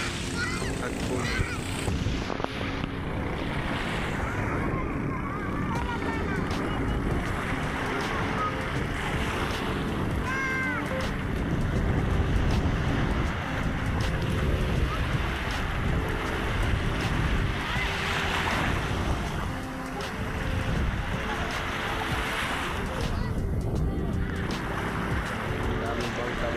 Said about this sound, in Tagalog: Daming bangka dito.